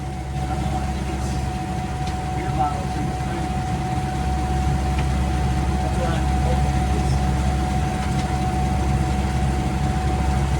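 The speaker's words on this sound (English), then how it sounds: "I hear a weird engine noise" A sailing boat's engine runs with an odd note, giving a steady low drone and hum that holds unbroken and fairly loud for the whole stretch, with faint clatter above it.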